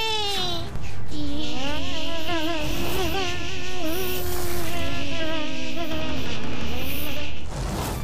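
A cartoon mosquito swarm buzzes loudly and continuously in high, wavering whines that rise and fall in pitch over a steady drone, ending abruptly.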